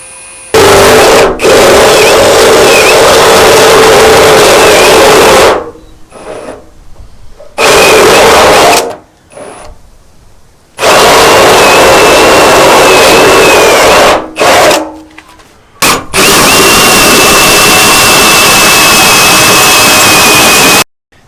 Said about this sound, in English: Now out to 16 millimeter with the step drill.